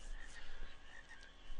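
Frogs croak steadily in a marsh in the video game Final Fantasy IX, a dense, continuous chorus at moderate level with no talk over it.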